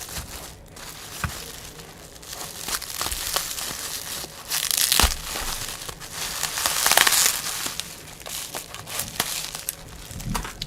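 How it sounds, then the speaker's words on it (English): Scissors cut through crinkly plastic packaging of printed miniatures, with irregular crackling and crumpling bursts, close and fairly quiet, louder around the middle. "My scissors are dying or something here."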